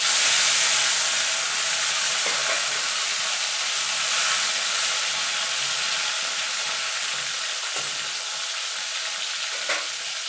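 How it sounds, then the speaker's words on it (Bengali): Black cumin and a small tomato frying in hot oil with a loud, continuous hiss and crackle that fades slightly over time, with a few soft clinks of stirring and no voices. "এই তেলেই আমি রান্নাটা করব, তার জন্য ফোড়নে দিয়ে দেবো কালো জিরে, একটা ছোট টমেটো"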